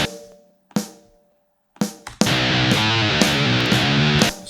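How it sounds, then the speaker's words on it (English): A soloed snare drum from a Logic Pro X drum machine hits in sparse, sharp strikes, then a loud distorted electric guitar enters and sustains a thick chord with snare hits punctuating it. "If I go solo snare and then let's just say solo the guitar,"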